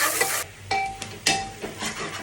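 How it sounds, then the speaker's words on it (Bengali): Sliced onions frying with whole garam masala in a pan, stirred with a spatula in several distinct scraping strokes over a steady close sizzle. "তো এখন তো পেঁয়াজগুলো নেড়ে চেড়ে দিব"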